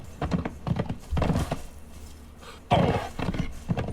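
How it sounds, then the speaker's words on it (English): A horse in a video game, with rhythmic hoof clops and thumps and a short neigh, fairly close and loud, with no talking. "Right, so we've got a horse."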